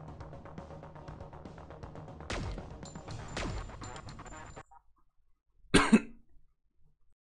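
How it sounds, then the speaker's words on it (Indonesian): During mobile game play a person coughs once, a sudden loud, harsh burst near the microphone after game sounds cut out, followed by quiet. "sorry tadi gue batuk"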